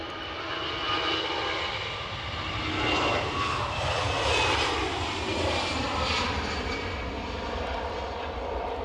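An airliner's engines roar steadily at Edinburgh Airport, a loud, continuous broadband rumble that swells and eases slightly as the plane passes nearby.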